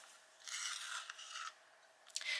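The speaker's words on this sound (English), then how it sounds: "I'm just going to colour them all over with Prussian green to start with. So I'm going to sharpen it." A Prussian green colouring pencil being sharpened produces close, steady rasping scrapes in two longer strokes and a short final burst, fairly faint with no talking.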